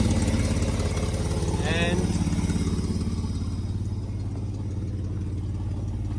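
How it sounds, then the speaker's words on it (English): A 1984 Holden VK Vacationer wagon idles steadily nearby, running off a tank, with a rough, pulsing puff from a bad exhaust leak at the front. Someone talks briefly over the engine. "So that's it, running off the tank. It's still got a really bad exhaust leak at the front here."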